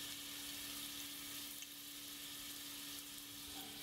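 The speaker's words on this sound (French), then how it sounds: "Déposez les steaks dans la poêle." Steaks lie searing in a pan of hot oil and butter over high heat, a faint but continuous even sizzle with a steady low hum beneath, no voices.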